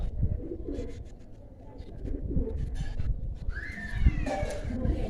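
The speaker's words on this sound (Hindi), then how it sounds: "ये फयाज भाई की कबूतरी है।" Low, soft cooing from a female pigeon murmurs close by, with a brief whistling chirp near the end and faint voices in the background.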